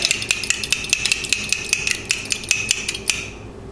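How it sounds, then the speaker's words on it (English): Eggs are beaten in a bowl for banana bread batter, producing quick, regular metallic clinks of a utensil against the bowl that stop abruptly after a few seconds. "now you're going to take your eggs and beat it a little bit before you put it in to the sugar and butter"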